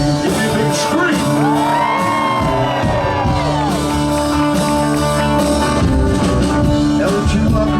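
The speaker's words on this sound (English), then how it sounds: "Give me a big scream." A concert crowd at a live show at Knott's screams, whoops and yells together in a loud, sustained roar, with shouts and musical tones rising throughout.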